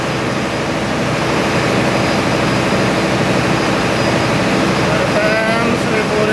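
A Cummins QSM11 diesel auxiliary generator runs at 1500 RPM in the engine room of an Indonesian cargo ship, a loud, steady, dense mechanical roar and drone that goes on without break and fills the space.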